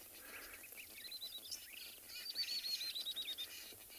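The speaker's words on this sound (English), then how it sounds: "And the birds are going crazy as well." Birds call and chirp in the open bush during a morning safari drive in South Africa, with thin whistled notes rising over a steady outdoor hiss and growing livelier toward the end.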